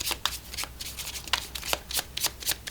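Oracle affirmation cards being shuffled by hand, a steady run of crisp riffling flicks repeating several times in quick succession, close and alone.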